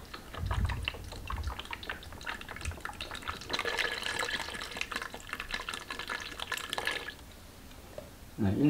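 Soy sauce is poured into a container at close range, with liquid trickling and splashing in irregular bursts for several seconds before tapering off, then a brief clatter at the end.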